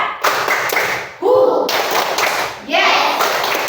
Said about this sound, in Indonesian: Sekali lagi, tepuk 1, 2, 3.